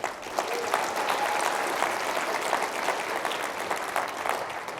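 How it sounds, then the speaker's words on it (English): Round of applause from a room full of attendees at an event, continuous dense clapping sustained for several seconds at moderate level with no talking over it. "Can I please get a round of applause for everybody in this room?"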